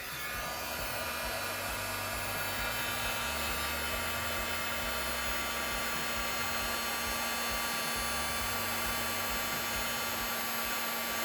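Heat embossing gun blowing steadily to melt clear embossing powder on a stamped card, a continuous loud whirring fan roar with a low motor hum running unbroken throughout.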